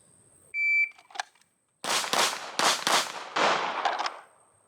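Pistol shots at a shooting training range, a timer beep followed by a quick string of six or so close, loud cracks fired in fast succession.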